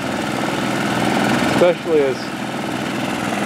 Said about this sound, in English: Apparently you can still hear me over the dredge.